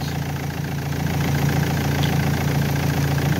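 A car engine idles steadily during an alternator test, a continuous close mechanical hum with a low even throb and no voices.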